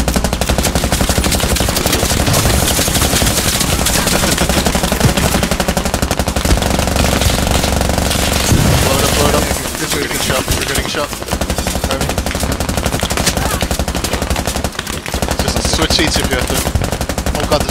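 Loud, sustained machine gun fire from dual MGs in the Squad military shooter, continuous rapid bursts with a brief lull and other weapons cracking around it, rolling on for most of the stretch.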